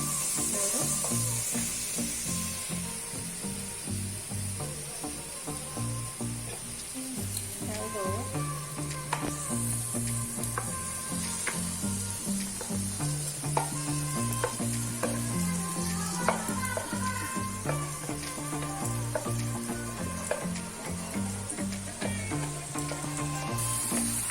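Mashed potato mixture for chop frying in a pan, a steady sizzle running throughout with scraping and stirring, under background music.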